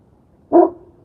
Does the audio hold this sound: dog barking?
yes